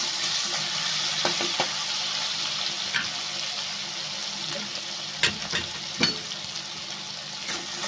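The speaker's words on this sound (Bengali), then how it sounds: "আবার ভালো করে নাড়াচাড়া করে মশলাটা ভেজে নেব" Spices and tomato stir-fried in a pan for a fenugreek greens (methi shak) dish, with a steady close sizzle and a few sharp scraping clicks from stirring near the end.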